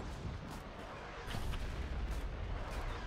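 An artillery gun fires in the war video game Foxhole, a dense roar of booming gunfire that runs continuously and grows slightly louder midway.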